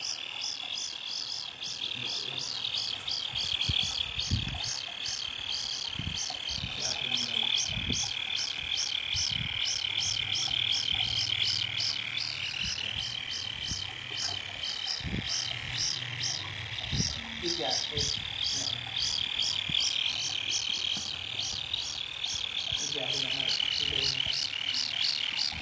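A mini tengkek udang kingfisher kept indoors gives a continuous, rapid, high-pitched pulsing alarm call through the whole stretch, fairly close and steady, with soft low knocks and handling noises underneath.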